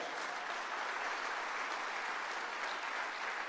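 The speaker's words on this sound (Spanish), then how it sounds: "Y hay otro fuerte aplauso al Señor." Loud, sustained applause from a church congregation filling a worship service, a dense steady clapping with no break throughout.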